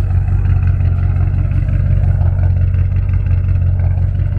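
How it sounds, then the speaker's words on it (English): A car engine idles steadily after a fuel pump modification, a low, even rumble with a faint rhythmic pulse running continuously and close by, with no talk over it. "Good clean idle."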